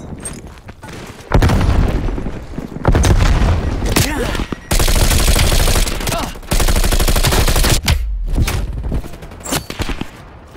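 Grenade explosions and gunfire in a Call of Duty Black Ops Cold War multiplayer match: repeated heavy booming blasts and rapid shots in loud sustained stretches, with brief voice callouts mixed in.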